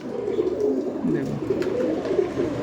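Pigeon cooing steadily and close by inside a bird shop, a soft continuous low warble with no talking over it.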